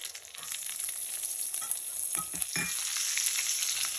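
Cashews and green chillies frying in a pan for khichdi give a steady, hissing sizzle, joined midway by a few soft stirring clatters.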